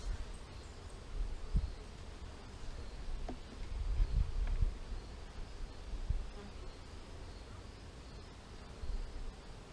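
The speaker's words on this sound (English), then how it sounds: "I see some bees already coming out" Honey bees hum around a top bar hive in a continuous buzzing drone, with a few soft bumps and handling noises underneath.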